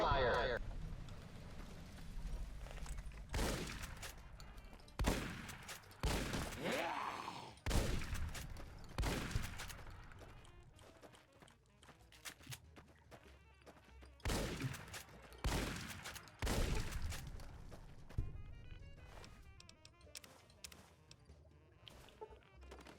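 Artillery fire in Fallout: New Vegas booms out in repeated heavy blasts at irregular intervals, some near and loud, others duller and farther off, with a voice talking between them.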